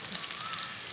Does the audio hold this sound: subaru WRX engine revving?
no